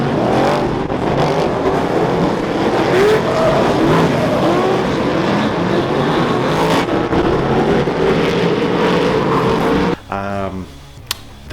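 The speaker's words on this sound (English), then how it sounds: "that's New Zealand dirt track racing" A pack of New Zealand dirt track race cars roars in a loud, continuous, dense wash of engines revving, and the noise breaks off abruptly near the end.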